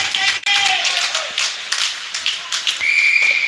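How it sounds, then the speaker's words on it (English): A referee's whistle signals icing at a high school ice hockey tournament game, arriving as a sharp, sustained blast near the end over loud, echoing arena crowd noise and scattered claps. "that whistle is icing."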